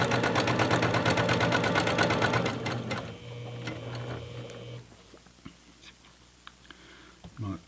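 A sewing machine runs loud and fast while stitching a seam along a long curve, then slows and stops, leaving quiet handling sounds of fabric.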